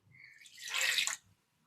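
Water splashes and pours briefly into a mixer grinder jar to rinse it, rising to a bright rushing burst before cutting off, quiet and close.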